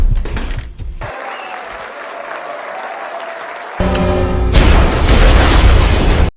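Bomb explosion destroying a fertilizer company in a movie: a loud burst cuts off to a quieter tense stretch with a faint tone, then a heavy roaring blast and crackling debris surge up and hold before ending abruptly.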